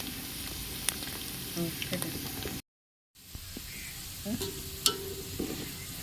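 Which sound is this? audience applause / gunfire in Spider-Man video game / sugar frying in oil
sugar frying in oil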